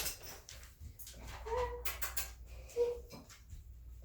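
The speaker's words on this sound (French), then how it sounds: "On laisse vraiment le chien secouer beaucoup ses oreilles pour faire sortir le liquide, les saletés." A dog shaking its ears after an ear cleaning, giving a few brief flapping rattles against a close, quiet room with faint whimpers in between.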